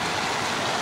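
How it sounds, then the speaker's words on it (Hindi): A continuous rush of splashing fountain water in Nishat Bagh garden, Srinagar, Kashmir, steady and fairly loud, with no other sounds. "ये फाउंटेन्स, पानी का झरना, सब कुछ"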